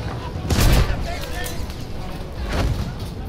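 Gunfire in the Battlefield 1 video game, a heavy volley of shots with a loud booming burst early on and another cluster near the end, over a steady rumble of battle.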